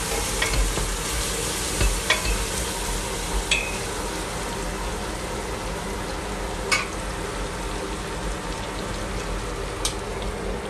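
Onions softening in sunflower oil in a pan, a constant dense sizzle and crackle with a few sharp spoon taps against the pan, close and steady, no talking.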